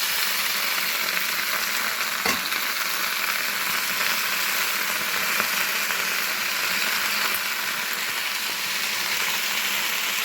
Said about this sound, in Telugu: ఇప్పుడు మనము అదే బాండీలో గోంగూర పెట్టేద్దాం